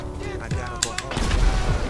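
Gunfire in the video game GTA Online: a few sharp shots crack out, then heavier, denser firing builds toward the end, with some game voices faintly underneath.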